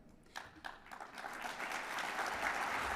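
Audience applause at the USTFCCCA coaches' convention opening session, a thin scattering of claps that quickly swells into steady, full applause from a large hall crowd.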